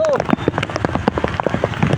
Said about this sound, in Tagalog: grabe na po yung ulan dito